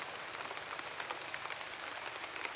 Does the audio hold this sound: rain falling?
yes